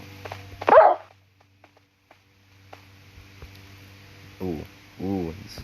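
Game dogs from a Minecraft animal battle, a dingo against an African wild dog, give a loud yelping bark burst early on, then two short whining growls follow after a quiet stretch.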